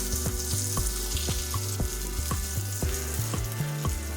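Eggplant slices fry in hot oil in a pan, sizzling steadily up close, with repeated sharp scrapes and taps of a spatula breaking the crackle.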